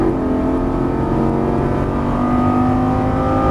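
A Lamborghini Gallardo LP550 on a race track gives a loud, sustained engine roar under throttle, steady and close, with no talk over it.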